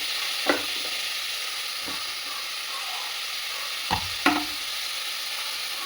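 Prawns fry in a pan as their water cooks off, a dense, even hiss of sizzling oil with a few sharp taps of a utensil against the pan.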